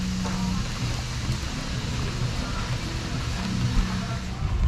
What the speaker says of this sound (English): It's still slightly raining